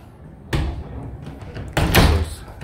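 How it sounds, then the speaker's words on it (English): A door in a factory-built home shuts with two solid thuds, a sharp one early and a louder, longer one later, alone with no talk. "And I know that was probably really loud, but, but that's how you close your door."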